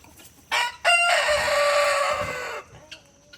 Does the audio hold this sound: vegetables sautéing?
no